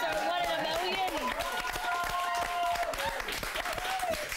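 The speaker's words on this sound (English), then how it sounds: "Give him a huge round of applause." A studio audience at a television show claps and cheers for an arriving guest, a loud sustained burst mixed with excited voices and chatter.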